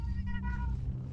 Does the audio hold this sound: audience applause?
no